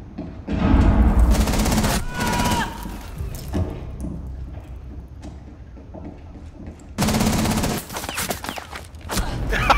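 Pistol gunfire duel in a Rainbow Six Siege match: bursts of sharp, loud shots clustered near the start, a scatter of quieter pops in the middle, then another heavy volley, with players talking over the action.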